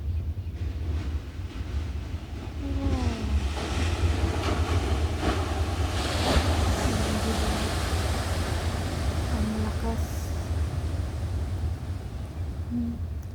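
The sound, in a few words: strong ocean waves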